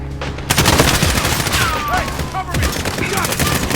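Bursts of LMG machine gun fire in the video game Fog of War ring out over a dense, loud mix of battle noise, steady through the stretch with overlapping shots.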